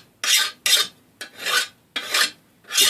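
A hand file rasps along the cutting edge of a lawn mower blade, five long, even strokes in a steady rhythm, each a loud, close scrape separated by brief pauses.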